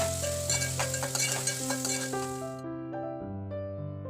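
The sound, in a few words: frying onion with green chillies and salt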